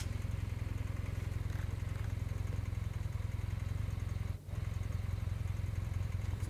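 A car engine runs at a steady idle for a horror story scene at night, a constant low rumble with light clatter that drops out for a brief moment near the end before resuming, with no talk.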